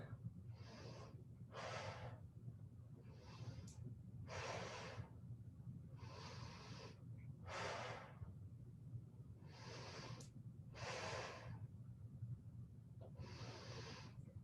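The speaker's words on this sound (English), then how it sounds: "5 more deep breaths." Slow deep breaths during a yoga session, rhythmic airy inhales and exhales repeating about every second or so, close and soft over a low background hum.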